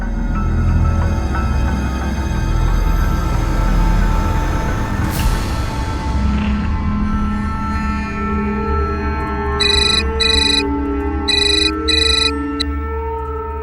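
A telephone rings in short repeated bursts, a pair of ring pulses followed by another pair, heard over a steady hum and background music.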